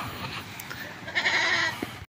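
A goat bleats once in a rural province yard, a drawn-out, wavering cry heard at moderate distance over steady outdoor background noise.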